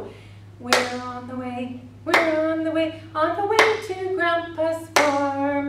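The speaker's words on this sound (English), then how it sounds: "just if you don't have anything, just clap along" Hands clapping along to the children's song about Grandpa's farm, a few sharp claps spaced across the moment while a voice sings over them.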